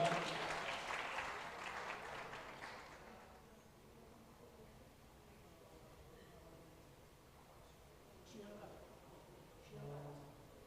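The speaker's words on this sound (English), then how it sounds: "can we please have a round of applause to all our panelists as we welcome them on stage" Audience applause greets panelists walking onto a stage at a live Trailblazers 2.0 event, a dense burst of clapping for about three seconds that quickly fades to quiet room tone with faint voices.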